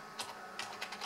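A DOS command is typed on a computer keyboard: a few quiet, close keystrokes clicking in an uneven rhythm.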